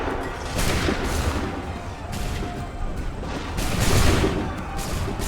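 Musket volleys in Assassin's Creed 3 Remastered battle, several sharp booming bursts of gunfire at irregular intervals over a constant rumble of battlefield noise, moderately loud.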